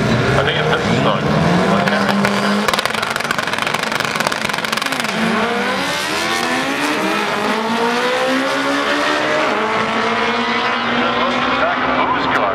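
Franklin Vu's drag racing car making a run at an Englishtown import meet, a loud sustained engine roar with rising gear-change sweeps, heard from the track with a commentator talking over it.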